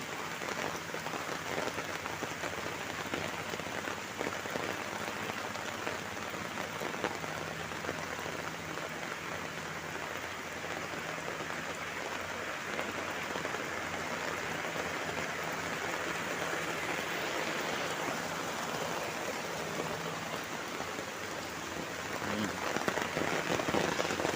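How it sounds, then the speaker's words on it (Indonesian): Heavy rain pouring down over a village, a dense steady hiss of falling water and drops on surfaces, continuous and even throughout without a break. "Jadi inilah kalau hujannya di kampung sobat"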